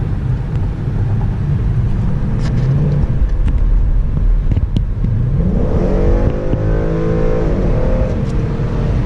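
A 2011 Ford Mustang GT 5.0 V8 pulls hard under acceleration, a loud deep rumble rising in pitch as it revs up through the gears, heard from inside the car with no talking.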